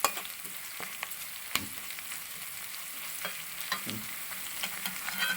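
Garlic, ginger, mustard seeds and shallots sauté with curry leaves for a Kerala clam roast, a steady close sizzle punctuated by occasional sharp pops and light stirring clicks.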